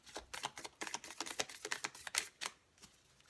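A deck of slightly bent playing cards is shuffled close up, a quick run of crisp flicking clicks lasting over two seconds before stopping into quiet.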